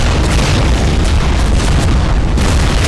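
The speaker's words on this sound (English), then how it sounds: "God damn Katusha barrage." Katyusha rocket barrage explosions in the World War II video game Men of War: Barbarossa: a steady, heavy wall of booming detonations and rumble, loud and unbroken for the whole stretch, with no talking.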